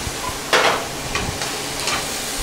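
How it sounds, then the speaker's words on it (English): Chicken and green beans stir-frying in an oiled pan give off a steady close sizzle, with a few brief scraping strokes from a utensil stirring them and no voices. "We're going to give that a stir."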